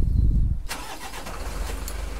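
A Mitsubishi Fuso truck with a 4M50 engine is started: a brief cranking whir catches and then settles into a steady, fairly loud idle close by.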